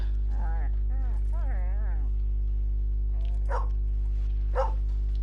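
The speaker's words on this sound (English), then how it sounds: "Oops, the dog." A dog in Red Dead Redemption 2 barks twice, in two short, fairly close yelps that follow a stretch of talk, over a steady low game hum.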